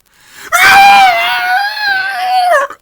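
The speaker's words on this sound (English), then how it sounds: "A high-pitched shriek pierces the valley" A high-pitched creature shriek rings out across a valley, one long, loud, wavering cry lasting over two seconds, strained and harmonically rich, rising sharply and then cutting off.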